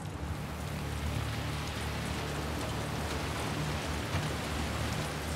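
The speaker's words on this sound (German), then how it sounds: "Regnet nämlich schon ganz schön doll wieder." Heavy rain pouring down in the video game The Last of Us Part II, a dense, even hiss of falling water with a low rumble underneath, steady throughout.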